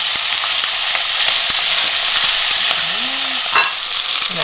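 Chicken pieces fry in a wide pot, a loud and steady sizzle close by, with occasional scraping as they are stirred and no voices.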